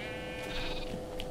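A sheep in the video game Minecraft gives one faint, drawn-out bleat over quiet background hum, with no talk.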